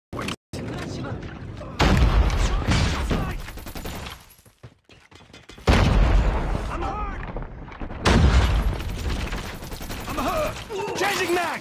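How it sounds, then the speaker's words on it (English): Enemy airstrike in a multiplayer shooter video game: heavy booming explosions and bursts of rapid gunfire, loud and close, arriving in waves with a brief lull in between, with voices talking over the battle. "Enemy airstrike incoming."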